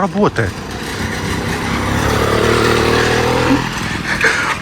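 A Chinese F-80 79cc petrol engine fitted to a bicycle runs with a steady buzzing putter, rising briefly at the start, while people talk over it nearby.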